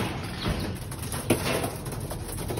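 Pigeons coo softly in a loft of racing birds, low rounded calls repeating under a busy background of rustling and faint wing movement.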